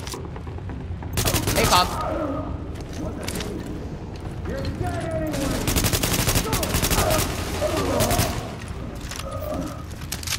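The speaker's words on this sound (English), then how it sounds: "I'm just shooting at the wall to waste my ammo" Loud, sustained bursts of automatic gunfire from shooting at a wall in Tom Clancy's The Division, with mechanical clatter between volleys and someone talking over the shots.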